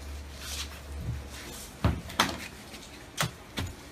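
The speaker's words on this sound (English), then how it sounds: "I gotta take this door out." A metal access door on a Rheem air handler is worked loose and pulled out, giving several sharp clanks and knocks spaced irregularly, close by, with no talking.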